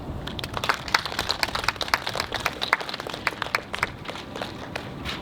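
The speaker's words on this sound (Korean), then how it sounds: "네, 다시 한번 큰 박수 부탁드리겠습니다." Applause from an audience at the opening ceremony of a university counseling center's psychology garden, a dense patter of individual claps filling the room at moderate level without any talking.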